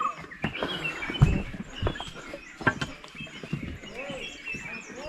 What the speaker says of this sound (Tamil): இந்த குருவிகளோட சத்தம் சூப்பராக